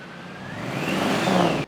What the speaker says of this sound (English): you get the blower whine